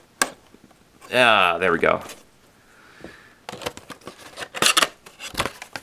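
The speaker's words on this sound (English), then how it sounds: "Where's my X-Acto knife? Alright, right here. And just gives a nice clean cut across the top." An X-Acto knife slices open the packaging of a Majora's Mask 3D Limited Edition box with short, crisp scratchy cuts close up. Someone speaks briefly in between the cuts.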